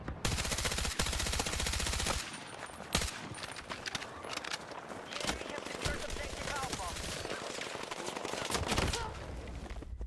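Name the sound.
LMG machine gun fire in video game Battlefield 6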